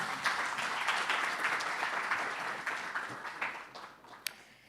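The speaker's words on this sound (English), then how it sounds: "Please give her a round of applause." An audience applauds a speaker at a livestreamed local-government event, dense clapping that gradually thins and fades, ending with one sharp clap.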